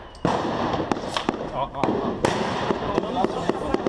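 Sharp cracks of gunfire pop repeatedly at irregular intervals, some distant and some closer, in the Rocinha favela in Rio de Janeiro, under someone talking steadily.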